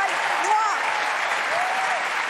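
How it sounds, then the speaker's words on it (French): A comedy club crowd applauds at a stand-up show, a loud, continuous roar of clapping with faint cheering voices woven through it. "Merci pour les applaudissements."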